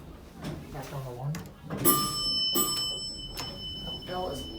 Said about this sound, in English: That bell is loud.